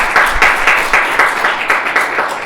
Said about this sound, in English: if we could give our speakers another round of applause for Dr. James Lauren.